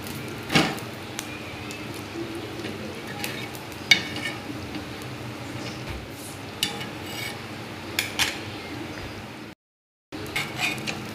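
Pav bread toasting in butter and oil in a pan for Mumbai-style butter pav bhaji: a steady soft sizzle with scattered spatula clinks and scrapes, close by, and a brief silent dropout near the end.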